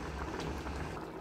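Mung bean soup with meat and shrimp boils in a pot, giving a dense, continuous bubbling and simmering that stays steady and close.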